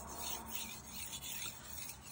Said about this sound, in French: Donc on utilise toute la surface de la pierre et également l'angle de la lame, de entre 15 et 20 degrés environ.